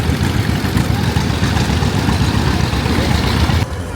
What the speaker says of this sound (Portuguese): tem desfile de trator também